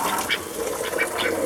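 Ducks on an Arizona homestead quack over fresh, clean water: a few raspy, nasal calls repeat in quick succession at close range, with a constant background hiss and no talking.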